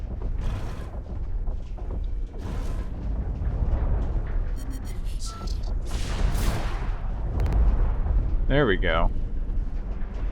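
Charged cannon shot from a mech in the online shooter Hawken: heavy booming blasts and mechanical whirs amid loud gunfire and battle noise, with a player speaking briefly.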